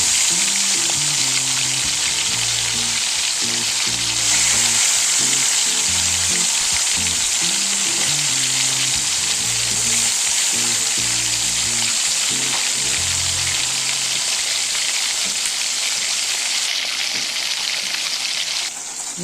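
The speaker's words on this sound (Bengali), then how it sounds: "এরপর মাছটা আমি ভেজে নিচ্ছি।" Fish sizzling steadily in hot oil in a pan, a continuous loud crackle with popping over about nineteen seconds and no voices.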